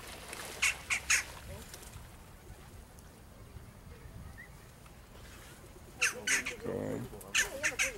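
Noisy birds in a Copenhagen park, not pigeons, squawk in short harsh bursts near the start and again toward the end, over a steady outdoor murmur.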